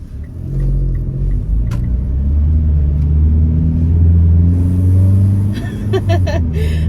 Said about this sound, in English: Here comes a bus.